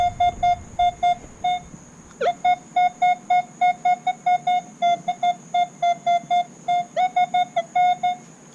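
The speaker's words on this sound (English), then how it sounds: "that's a lot of beeping" A rapid series of short electronic beeps from a Fisher CZ-21 or Minelab Equinox metal detector on a beach repeats steadily at close range, with one sharper click partway through and no voices.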